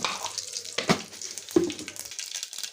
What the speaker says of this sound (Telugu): అయితే పోపు పెడుతున్నానండి. ఆయిల్ వేసుకున్నాను.